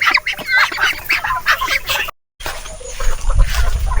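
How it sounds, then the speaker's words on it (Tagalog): Peking ducks calling in loud, raspy honking quacks, close by, in a burst of overlapping calls, followed by a brief silence and then low rumbling background noise. "Ang lalaki na ng mga Peking duck."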